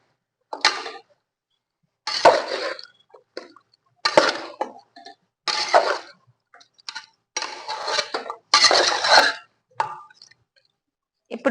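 Chicken is stirred and mixed in a pot for curry, producing about seven short, wet scraping and slopping bursts in an irregular rhythm, close and fairly loud with silent gaps between them.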